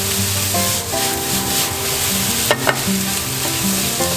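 Fried rice being stirred with a regularly used spoon in a frying pan after about two tablespoons of soy sauce go in, a steady close sizzle with scraping strokes and a couple of sharper clinks near the end.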